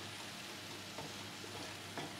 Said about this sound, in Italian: Andiamo a mescolare il tutto